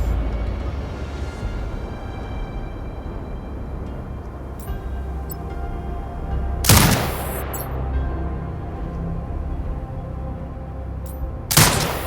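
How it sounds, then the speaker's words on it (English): Turret gunfire in the video game Sniper Ghost Warrior Contracts 2, two heavy booming bursts several seconds apart over a low rumbling background. "Exit binocular mode and command the turret to fire."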